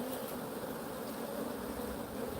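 Honeybees drone in a dense, steady buzz at close range while a hive is opened for inspection, continuous and fairly quiet with no voices.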